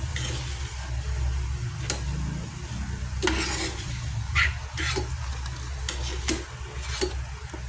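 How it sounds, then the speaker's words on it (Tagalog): Garlic and onion sauté quietly in a pan while preparing chicken curry, a low, soft sizzle broken by a few sharp scrapes and clicks of a utensil stirring against the pan. "sote lang tayo ng bawang sibuyas"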